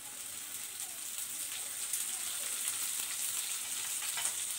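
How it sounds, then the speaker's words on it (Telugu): Green chillies sizzling in hot oil in a frying pan, a steady bright crackling fry that swells slightly as they settle in, heard close with no talking. "ఇప్పుడు పచ్చిమిర్చి వేస్తున్నాను."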